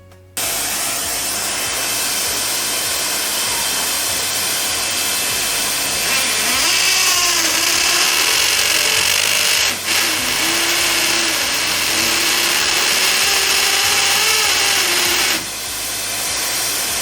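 Power drill boring into a wall to take small plugs for hanging a light picture frame, a continuous loud close whirring that shifts pitch as it works, briefly dips, then cuts off near the end.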